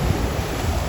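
Strong ocean waves surge onto a beach at Maruata, Mexico, a loud, continuous roar of surf mixed with wind buffeting the microphone, with no voices.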